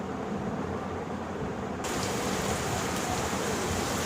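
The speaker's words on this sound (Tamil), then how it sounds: "மழை வேகமாக வருது." Heavy rain pours down in a steady, dense hiss that grows noticeably louder and brighter partway through, filling the scene with no voices.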